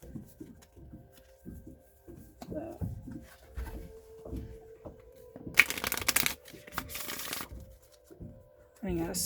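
Oracle cards from a Divine Master deck being shuffled by hand, soft riffling and papery bursts, the loudest flurries about midway, between stretches of quiet talk.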